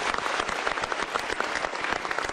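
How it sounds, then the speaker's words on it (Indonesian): Audience applause at an Indonesian exam-preparation event: dense, steady clapping from a crowd, loud and continuous throughout with no talking over it. "yuk kita berikan tepuk tangan ini"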